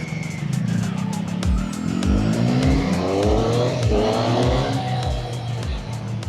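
A Triumph motorcycle ridden on a track revs hard, its engine climbing and dropping through a series of rapid gear changes, loud and close over steady wind noise.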